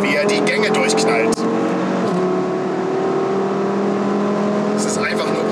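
A 560 hp Audi RS3 accelerating hard from inside the cabin, its engine droning loudly and climbing through quick gear shifts, with a sharp break at one shift, while someone talks over it.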